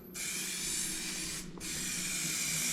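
Rust-Oleum outdoor fabric paint sprays steadily from an aerosol can as a thick second coat goes on. The close, loud hiss runs almost continuously, with one short break near the middle before the spraying resumes.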